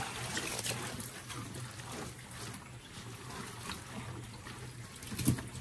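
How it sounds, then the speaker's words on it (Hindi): Water runs into a washing machine loaded with two bedsheets, giving a steady low trickling and splashing that continues throughout at a moderate level, with one brief louder knock near the end. "इसमें पानी डालना पड़ेगा फिर इसको वाश होगा अच्छी तरह से"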